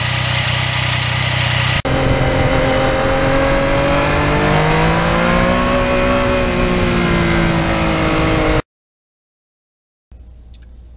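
Yamaha MT-09 motorcycle ridden on newly lowered forks, its engine droning loud and steady with pitch rising and falling through gear changes, then cutting out abruptly before a faint return.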